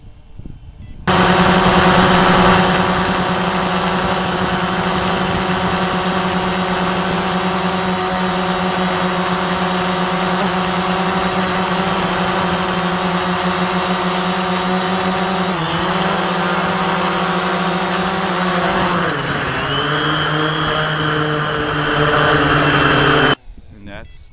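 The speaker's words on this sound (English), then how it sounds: "That's a Cx-20, Cheerson Cx-20 GPS quad." Cheerson CX-20 GPS quadcopter drone hovering with a loud, steady multi-rotor buzz, its pitch dipping and wavering as it descends and lands, then the motors cut off abruptly near the end, leaving quiet.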